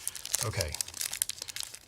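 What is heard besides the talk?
crinkling wrapper of a Turkish delight chocolate bar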